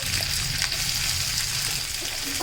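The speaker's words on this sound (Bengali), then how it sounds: "পেঁয়াজটাকে হালকা লাল করে ভেজে নেব।" Four medium chopped onions fry in hot oil over whole spices for a chicken curry, producing a dense, even sizzle that holds steady and close throughout.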